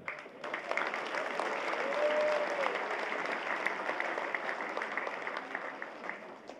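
A crowd at the Philippine Military Academy commencement exercises in Baguio City claps steadily, a sustained patter of many hands heard from a moderate distance with a faint voice early on.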